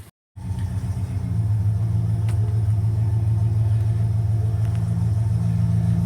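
A 1968 Ford Custom 500 drives with a steady, deep engine rumble that stays loud and close inside the car after a brief silent start, with no speech.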